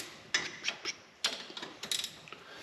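A ratchet wrench tightens the three hub bearing bolts on a solid axle, giving a few short bursts of quick clicking with small pauses between strokes, close and fairly quiet.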